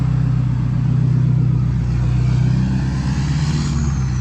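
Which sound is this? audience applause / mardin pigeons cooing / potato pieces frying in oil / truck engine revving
truck engine revving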